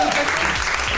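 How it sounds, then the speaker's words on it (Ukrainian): A television studio audience at a singing show gala concert bursts into thick, continuous applause for a singer taking the stage, loud and steady for the whole second with a presenter's voice over it. "Саме такими самими бурхливими оваціями ми вітаємо її тут у нас"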